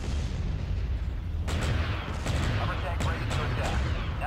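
Artillery fire in the Star Wars Empire at War real-time strategy game: several sharp booming blasts in quick succession over a rumbling battle background, with game voices under them.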